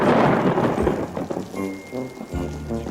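Steady heavy rain pours down with a low rumble of thunder, loud and close, and no one speaks.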